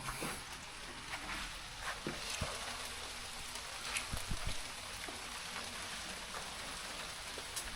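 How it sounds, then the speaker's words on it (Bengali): Light rain in the hills at Shitong patters in a soft, steady hiss, with scattered louder drips and taps landing close by; fairly quiet overall. "সকালবেলা বিশাল বৃষ্টি হয়েছে"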